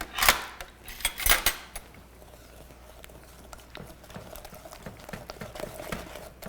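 Brownie batter stirred in a mixing bowl, with a few loud clattering scrapes of the utensil against the bowl at the start, then a quieter, steady stirring and tapping that continues to the end.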